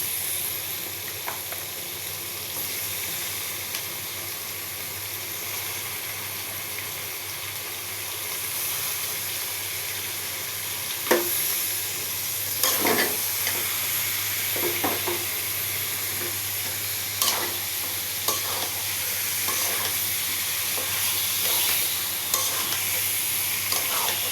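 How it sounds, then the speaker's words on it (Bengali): Meat frying in a spice paste as it is stirred for a curry, a steady sizzle with bursts of scraping and clacking from the spoon in the second half, close and fairly loud. "মশলাটা কষানো শেষ আমরা এখন মাংস দিয়ে দিলাম"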